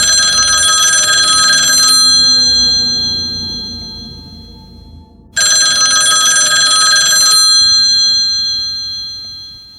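A telephone bell rings loudly in two long bursts separated by a brief pause, bright and metallic, with no voices.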